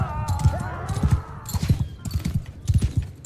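Horse hooves gallop in the video game Mount and Blade Bannerlord, a dense, rhythmic thudding clip-clop up close, mixed with game sounds and a whinny-like tone.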